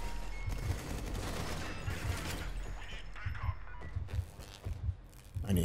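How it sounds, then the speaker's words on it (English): Repeated weapon fire in the game RUINER, with steady rhythmic bursts of shots and thumps over a dense, busy background of combat noise. "I'm shooting you."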